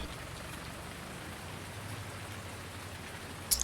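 Steady rain in the farming game Farming Simulator 19, a continuous soft hiss of falling drops at even, moderate loudness throughout, with a brief small knock near the end and no talking.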